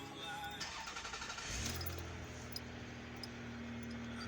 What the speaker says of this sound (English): We're gonna start the vehicle here.